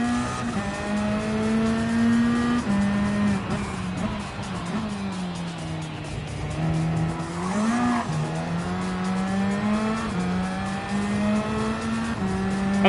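A Supra race car in Gran Turismo 7 runs hard with its engine rising and dropping through gear changes, revving under throttle alongside brief tire squeals, steady and loud throughout.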